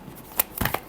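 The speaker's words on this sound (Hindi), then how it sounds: "Last shuffle." A deck of tarot cards gets a final shuffle, a few quick riffling bursts close by with brief pauses between them, and no talking.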